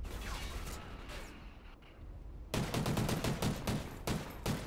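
Gunfire in a first-person shooter match, a dense close rattle of rapid automatic shots that cuts in sharply after a quieter stretch of lighter shots and game noise.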